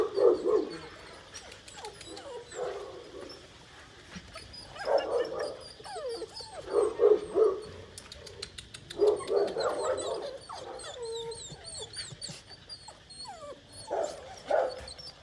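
Rottweiler puppies in Long Khanh, Dong Nai, Vietnam, yipping and barking in repeated bursts with soft whimpers between, fairly quiet with some background noise and no talk.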